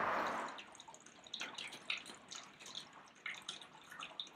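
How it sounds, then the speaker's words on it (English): Heavy rain pours down outside, heard from beneath a closed roof: a steady wash of water with scattered, irregular drips and patters standing out at moderate level, no talking. "Oh my goodness, it's pouring down out there. Can you hear that?"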